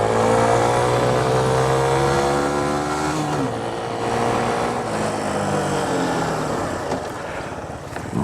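Suzuki Van Van 125 motorcycle accelerating in first gear, close and loud, engine pitch climbing in rising sweeps, easing off, then pulling up again, no talking.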